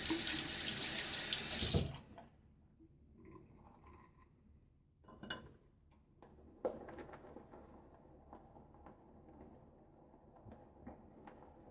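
A tap gushes loudly for about two seconds, then cuts off, followed by quiet clinks and soft handling noises in a small room while preparing a wet shave.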